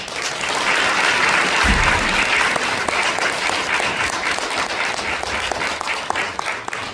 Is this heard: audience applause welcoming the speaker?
yes